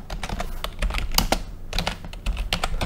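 Quick, irregular clicks of typing on a computer keyboard, close and distinct, with bursts of keystrokes and short pauses between them.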